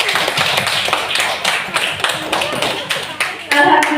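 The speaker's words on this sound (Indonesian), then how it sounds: "Marilah kita beri tepuk tangan buat Bapak CGP kita" An audience claps for a teacher at a school event, a dense patter of hand claps running throughout with voices mixed in and a louder burst near the end.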